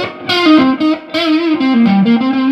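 A smooth, slightly overdriven electric guitar with its volume knob rolled back plays a sustained melodic line with bends, warm and creamy rather than harsh, close and fairly loud.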